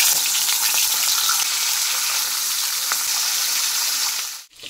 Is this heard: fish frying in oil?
yes